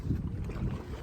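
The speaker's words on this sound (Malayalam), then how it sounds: "ഇന്ത്യയിലെ തന്നെ ഏഷ്യയിലെ ഏക സോളാർ ബോട്ട്" A solar boat moves on the water at Vaikom beach, giving a steady low rumble of water and wind buffeting the microphone, close and continuous with no voices.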